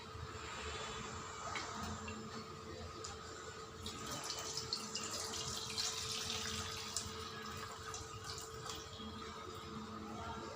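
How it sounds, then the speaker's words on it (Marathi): Water from boiled moth beans pours through a sieve, a steady close splashing trickle running throughout at moderate volume, with a faint constant hum in the background. "आता आपण जी मटकी बॉईल केली होती त्याला चाळणीच्या साहाय्याने त्याचं पाणी काढून घेऊया"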